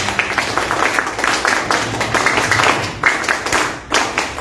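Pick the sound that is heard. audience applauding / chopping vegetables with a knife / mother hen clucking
audience applauding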